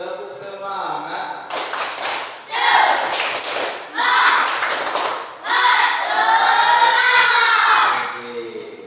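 A class does a rhythmic group spirit clap, with bursts of sharp clapping mixed into loud chanting voices from the group, repeated in several quick rounds.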